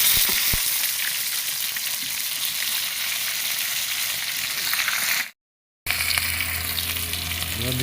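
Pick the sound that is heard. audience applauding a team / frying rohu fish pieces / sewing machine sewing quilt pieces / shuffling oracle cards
frying rohu fish pieces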